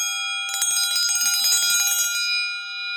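A struck Damascus steel triangle rings loud and bright, its piercing sustained overtones hanging through the whole moment, with a short burst of noisy rattle in the middle before the tone carries on alone.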